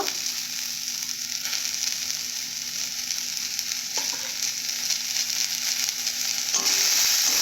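Onions fry with salt in a dry pan for a rohu fish curry, giving a loud, continuous sizzle up close with faint stirring throughout and a steady hum underneath.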